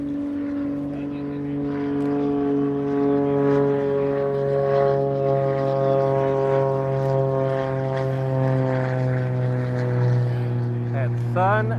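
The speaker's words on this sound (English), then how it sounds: "Airplanes, airplanes," Propeller aircraft engines drone steadily at the Sun 'n Fun air show in Florida, a loud sustained hum with shifting pitch as planes pass or taxi nearby.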